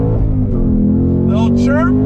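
A 2021 Ford Mustang Mach 1 launching hard, its engine roaring loudly and steadily throughout while a short, sharp tire chirp cuts in near the end of the run.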